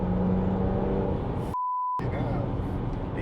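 A tuned BMW 330d with an N57 diesel engine, big turbo, intercooler, downpipe and remap gives a steady low rumble under people talking, interrupted by a brief electronic beep.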